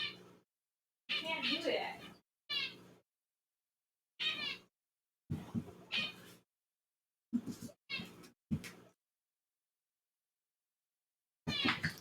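Several kittens meow in short, high bursts scattered through quiet pauses, close and clear, with a person speaking a few words among the cries.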